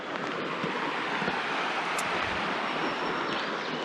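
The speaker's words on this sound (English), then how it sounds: "There it is, the Linville River." The Linville River rushing through the Linville Gorge makes a steady, broadband roar of flowing water, even and continuous throughout with a faint wind-like hiss and no voices.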